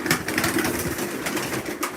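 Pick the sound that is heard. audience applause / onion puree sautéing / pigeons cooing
pigeons cooing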